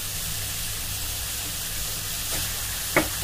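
Chicken filling with salt sizzles steadily in a hot pan while being stirred, a constant frying hiss with a couple of brief scraping clicks near the end; no voices.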